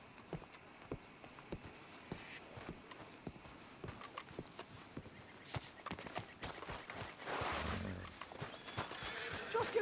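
Horse hooves clip-clop at a steady walking pace on a hard surface in the video game Red Dead Redemption 2, close and distinct, with occasional louder thuds and some brief noise near the end.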